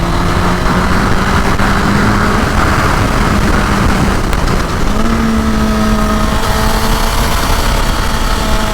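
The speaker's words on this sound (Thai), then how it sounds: "อ่าเกียร์สองนะเกียร์สองลากเกียร์สองหนักๆเลย" Car engine revving hard and held in second gear while overtaking on a road, a loud continuous roar with rising and falling pitch, close and steady throughout with no talk.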